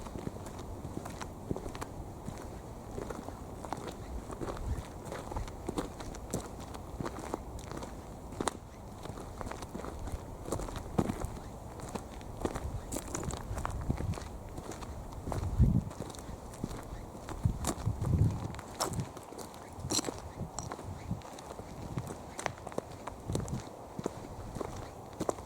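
Footsteps crunch along an outdoor path at night near Ashurst Beacon, a steady walking rhythm close to the listener with faint crackles and a low background hum throughout.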